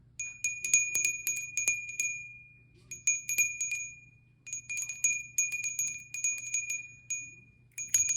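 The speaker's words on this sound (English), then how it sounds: "If you're sensitive to the sound of the bell, please cover your ear." A small bright bell is rung in repeated rapid bursts, high clear tones ringing out with short pauses between volleys.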